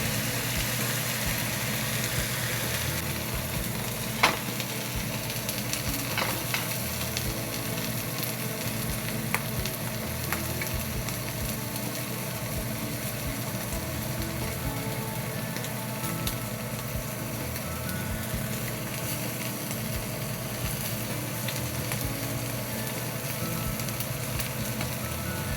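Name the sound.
T-bone steak searing in a pan on high heat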